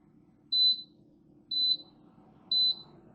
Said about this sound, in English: So this timer is going to go off any second now.